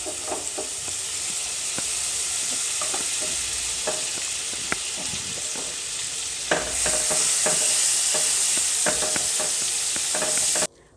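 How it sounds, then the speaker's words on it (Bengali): Butter melts and sizzles in a kadai as the base for butter chana, a loud continuous frying hiss broken by frequent scraping clicks of stirring, brightening midway and stopping abruptly at the end. "বাটার চানা বানানোর জন্য কড়াইতে বাটার দিয়ে দিলাম।"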